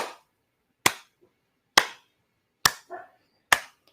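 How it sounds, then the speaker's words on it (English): Hands clap sharply during a laughter yoga session, five single crisp claps spaced evenly about a second apart, each ringing briefly into silence. "And then we're going to start to clap to just break up some"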